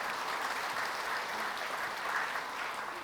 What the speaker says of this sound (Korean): 하나님께 우리 감사의 박수 드리십시다.